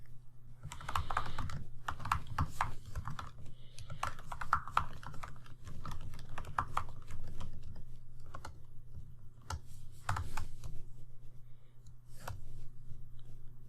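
Steady typing on a computer keyboard while an email name is entered, a continuous run of close clicky keystrokes with brief pauses between bursts over a low hum.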